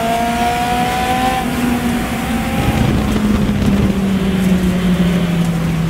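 A Ford Lotus Cortina MK1 racing car engine drones steadily throughout, with a sustained tone that shifts slightly in pitch as it holds speed, loud and close.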